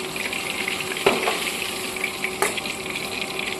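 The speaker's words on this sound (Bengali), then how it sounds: "এভাবে বাকি মাছগুলোকে আমি ভেজে নেব।" Katla fish pieces fry in hot oil in a pan with a steady, close sizzle, broken by a couple of sharp crackles or spatters; no voices.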